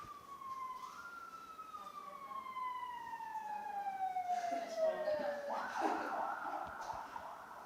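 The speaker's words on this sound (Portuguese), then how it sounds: "Eu acho que é ambulância." Ambulance siren wailing in a long descending sweep, faint and distant, then fading under room noise as speech starts near the end.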